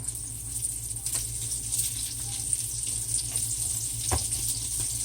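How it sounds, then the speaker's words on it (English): Oil sizzles and crackles steadily as battered chicken fries, a constant hiss with a few sharper pops. "It's going to take about a good little while to fry up all this chicken"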